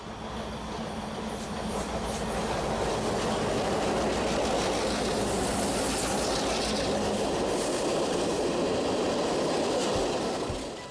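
BNSF Heritage 1 paint GP-series Geep diesel locomotive on loan in southern Ontario, heard as a steady, loud rail rumble with rolling wheel clatter and engine drone that holds throughout, no voices.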